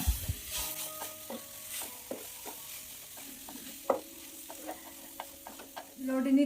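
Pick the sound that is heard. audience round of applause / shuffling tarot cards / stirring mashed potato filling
stirring mashed potato filling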